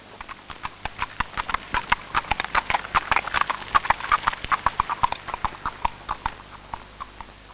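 A racing horse trots with steady, rapid clip-clop hoofbeats, each strike sharp and evenly spaced, fairly close and loud throughout with no talk over them.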